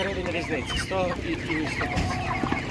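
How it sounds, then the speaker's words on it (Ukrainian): Chickens and roosters cluck repeatedly at a village livestock market, short pitched calls coming close and fairly loud over a busy background of market voices. "Курка бомбезна просто."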